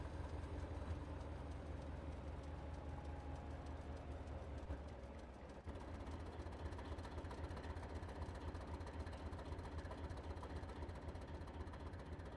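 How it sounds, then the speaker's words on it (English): The compressor runs on an HST train, giving a steady, continuous mechanical drone with a faint rattling texture and no change in level throughout, no voices over it. "Well, you can hear the compressor."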